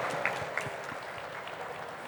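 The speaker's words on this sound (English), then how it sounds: "A round of applause for Josh from ChatBet" Applause from an audience at a startup pitch competition, fairly quiet and distant, a brief steady patter of clapping with a couple of louder claps near the start.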